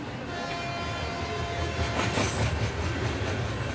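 A train on a government railway line, used as a sound effect in a comedy skit, rolls by with a loud, continuous rumble and steady clatter of wheels on track throughout.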